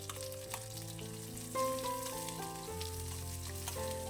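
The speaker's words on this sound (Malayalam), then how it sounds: "നല്ലവണ്ണം ചെറുള്ളി വഴറ്റിയെടുക്കണം" Shallots sautéing in oil for a spinach curry, a steady close sizzle with soft stirring scrapes over a background of music.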